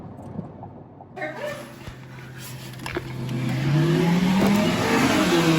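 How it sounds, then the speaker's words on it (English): A car doing a burnout nearby: the engine revs up and climbs steadily in pitch, growing louder and harsher over a noisy roar. "Uncle Sage was doing a burnout"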